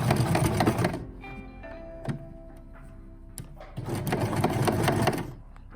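Sewing machine stitching culottes fabric near a zipper, a fast close whirr at start and end with a slower, lighter patch of a few clicks and thunks between.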